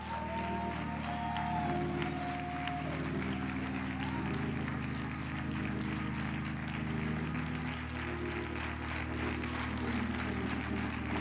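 An audience applauding in a large church service, a continuous wash of clapping mixed with crowd noise and sustained organ or keyboard tones underneath.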